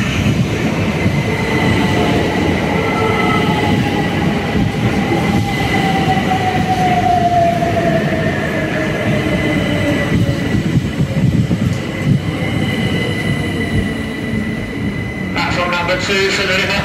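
A train passes close by at Haywards Heath station with a loud, steady rolling rumble, faint wheel squeal and clicking rail joints, while a station announcement plays underneath.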